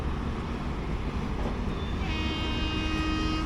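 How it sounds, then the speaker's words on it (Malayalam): A train horn sounds from a passing train on the opposite line during a Mysuru–Shirdi express journey, a sustained tonal blast entering midway over the constant loud rumble of the moving carriage. "ഒരു ഹോണടി കൂടി കേൾക്കാനുണ്ട്."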